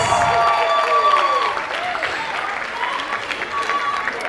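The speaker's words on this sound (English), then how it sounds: "Please put your hands together for our salsa beginner students." An audience applauds salsa beginner students at an indoor event, with steady, fairly loud clapping and some cheering, while a voice speaks over it.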